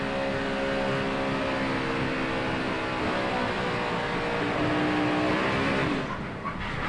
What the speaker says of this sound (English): You can tell he was in the throttle pretty far off the corner before he started to slow down